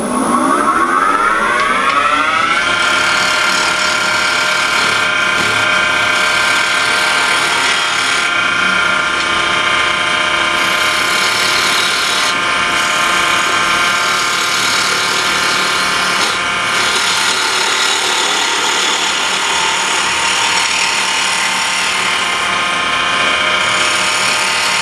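Wood lathe machining a cabriole leg: the motor whine rises as it spins up in the first few seconds, then holds a loud, steady tone with continuous cutting noise and no talk.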